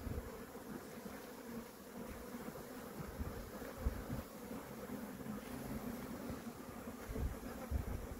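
Honey bees hum in a steady, dense drone as a hive with a super is opened and its frames are inspected, the buzzing close and continuous with slight swells throughout.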